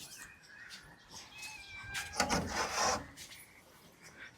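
A cat meows inside an old, run-down house. There are a few faint, drawn-out meows, and around the middle a louder burst of rubbing or scraping rustle is heard. No talk.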